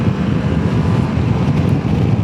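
Triumph Tiger 1200 Rally Pro triple-cylinder engine, a 2023 adventure motorcycle, running in a steady low rumble with strong bass and constant wind rush over the microphone, no voices.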